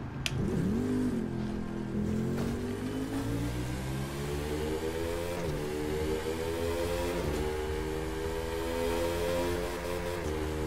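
A Ducati Panigale R motorcycle engine in the racing game The Crew 2 drones loud and steady, rising and falling in pitch as it revs and shifts through gears, with no talk over it.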